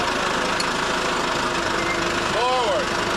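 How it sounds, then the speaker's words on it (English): A tractor engine idles with a steady, knocking rumble as it is hitched up to lift an airboat motor, with voices talking nearby. "we're gonna have to hitch the tractor back up to the motor and give it a little lift"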